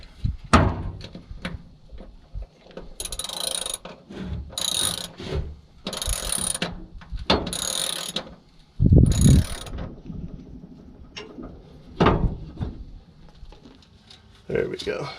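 Bolts are ratcheted tight while a new box van floor is installed: bursts of rapid clicking ratchet strokes repeat in several separate runs, close and fairly loud, with a thump and brief talk between them.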